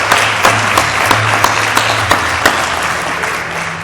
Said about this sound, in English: Let's give these girls once again a big round of applause.